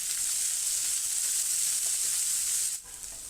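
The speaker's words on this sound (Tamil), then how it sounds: "ஒரு பெரிய வெங்காயத்தை மட்டுமே சின்னதாக இந்த மாதிரி கட் பண்ணி போட்டுக்கேன்" Finely chopped large onion sizzles steadily in hot oil in a pan for a banana blossom stir-fry, a close, even frying hiss that dips briefly near the end.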